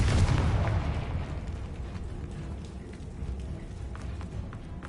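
A Confringo spell explosion in the Hogwarts Legacy video game lands as a loud booming blast at the start, then its rumbling tail decays over several seconds into low in-game noise.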